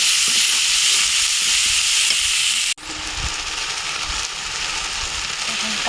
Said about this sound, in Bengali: ভালোভাবে মশলাটা এভাবে কষিয়ে নেব।